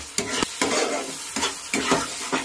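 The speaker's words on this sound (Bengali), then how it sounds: "এখন এই ডালের সাথে মশলাগুলো আবারও ভালো করে কষিয়ে নেব" Drained lentils being sautéed with spices in a pan, with sharp scraping stirs at irregular intervals over a steady close sizzle.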